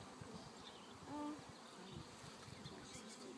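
A constant soft hum of buzzing honey bees during a hive opening, a swarm droning steadily at moderate distance with a brief louder pass.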